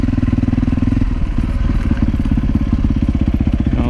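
A loud off-road dirt bike engine running on a single-track trail at Grand Mesa, close up with a rapid, pulsing chug that shifts pitch as the throttle changes.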